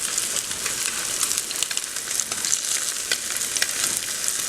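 Slices of Spam fry in a pan, a steady dense sizzle and crackle running evenly throughout with small pops, close and fairly loud with no talking.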